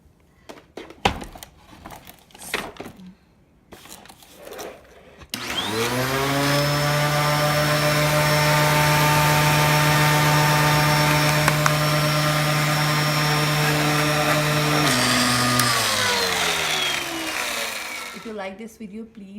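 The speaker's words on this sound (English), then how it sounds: "Put the all screws back and let's see it's working or not." A vacuum cleaner with a newly replaced brush belt starts up after a few knocks and handling sounds, then runs with a loud, steady motor whine for about ten seconds before spinning down.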